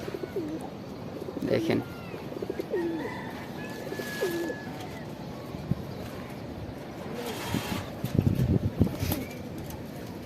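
A pair of Shahjahanpuri pigeons coo softly and intermittently among birds at a home loft, with a person speaking briefly nearby and light background noise.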